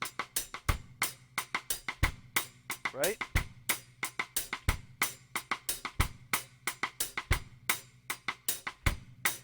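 A reggae drum groove on a kit plays close and clear, with steady hi-hat strokes, a kick drum landing on beat three and crisp side-stick clicks. The pattern repeats evenly, and one brief spoken word comes in near the start.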